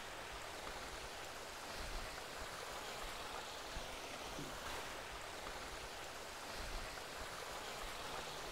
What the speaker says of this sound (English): So the water is cascading down these rocks and this meandering, and then the water ends up in this beautiful, tranquil pond.